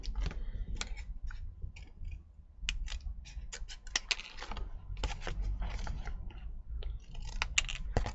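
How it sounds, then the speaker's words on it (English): Scissors snip through paper at a craft desk in a quick run of crisp, close cuts, several short bursts with brief pauses between them and no talking. "And then we can snip it this time."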